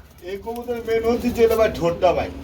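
Nun pigeons in a market coo in soft rolling calls close by, with voices talking over them.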